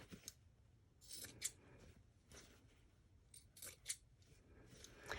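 Scissors trimming the corners of a sewn fabric pillow, several quiet close snips spaced across a few seconds, alone with no talk.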